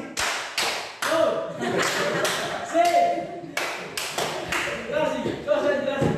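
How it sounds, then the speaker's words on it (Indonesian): Classroom children doing the concentration clap, crisp unison claps in a patterned rhythm, interleaved with chanting voices, fairly close. "Delo tepuk konsentrasi."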